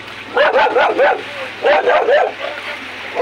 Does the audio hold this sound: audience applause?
no